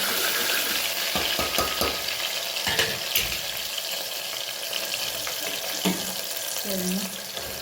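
Curry leaves and tomatoes are stirred into a frying pan, producing a soft sizzle with scattered scraping and clatter from the spoon, fairly quiet and close.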